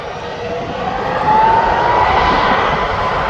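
A Ryanair airliner takes off from East Midlands Airport, its jet engines a broad, steady roar that swells slightly as it climbs, heard from a distance without any talk.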